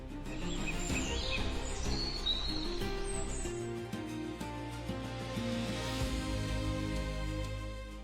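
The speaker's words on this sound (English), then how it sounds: "It is the unmistakable call of the African fish eagle, one of the most iconic sounds in all of sub-Saharan Africa" An African fish eagle calls along a lush African riverbank, with several faint, high, ringing cries heard over a constant low hum and rumble of background noise.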